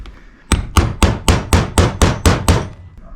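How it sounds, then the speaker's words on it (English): Hammer driving a metal socket over a peg on a 1999 BMW Z3 sports seat trim, nine sharp evenly spaced metallic strikes, close and loud, with no talk. "using a socket that is the perfect size for this, I can drive this over the peg with a hammer"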